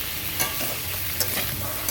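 Fish and prawns fry in a pan, giving a steady close sizzle with occasional louder crackles and stirring scrapes, with no talk.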